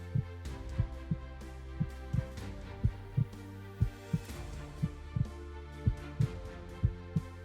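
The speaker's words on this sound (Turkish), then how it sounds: "Sadece kendi kalp atışlarımı duyabiliyordum." A steady heartbeat thumps in a slow, even rhythm, each beat a soft low double pulse over a faint hum, with no voices.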